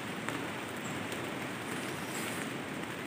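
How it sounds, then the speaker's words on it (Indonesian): Rain patters steadily and softly through a forest near a fruit tree in the late afternoon, forming an even, diffuse hiss with no voices. "Oh, hujan, bro."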